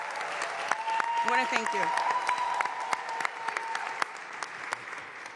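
Applause and cheering from an audience at the opening-day dedication of a city recreation center, honoring the parks and design and construction agencies; steady clapping fills the whole stretch while a speaker talks over it.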